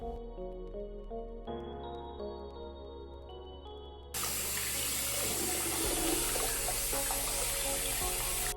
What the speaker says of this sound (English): Then I wash my hands with this hand soap to make sure that my hands are clean before I start my skincare.